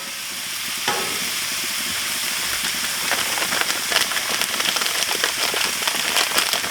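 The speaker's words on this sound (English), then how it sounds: "Go ahead and put the onions on there." Onions hitting a hot cheesesteak griddle and sizzling steadily, a bright continuous crackle that grows busier with scattered pops and a little scraping, no talk.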